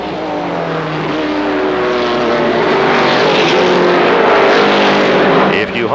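Stock cars in an ARCA Supercars race at Kil Kare Speedway, 1995, a continuous loud engine drone with shifting pitch as the pack runs through traffic, under steady race commentary.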